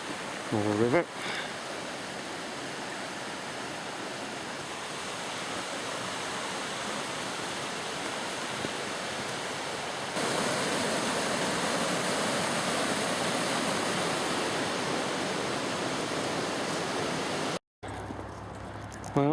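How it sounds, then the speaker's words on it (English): A river flowing on a Dartmoor hike near Two Bridges, a steady broadband rush of moving water that swells slightly midway, fairly quiet and continuous, with a brief cut and a faint knock near the end. "More river."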